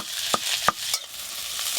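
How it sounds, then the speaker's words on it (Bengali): Chopped onions dropped into hot mustard oil give a soft hiss with a few sharp spatters and clacks, close and otherwise quiet, with no voices. "পেঁয়াজ কুচি দেব।"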